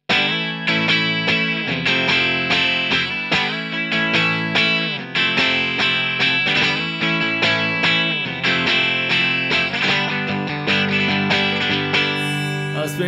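Electric guitar played through an Overloud Vintage Collection 2 amp simulation in the style of an AC50, with chords and notes in a warm, slightly overdriven tone, continuous and upfront.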